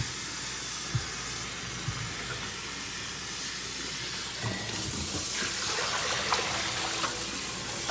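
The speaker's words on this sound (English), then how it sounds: "See how the water is going in a different direction?" Tap water runs steadily into a bowl being rinsed by hand at a sink, a continuous close splashing flow with a few soft knocks against the bowl.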